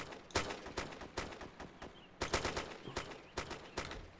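Gunfire in Arma 2 rings out as a string of sharp, fairly faint cracks and short bursts, spaced irregularly and echoing a little, as if from some distance.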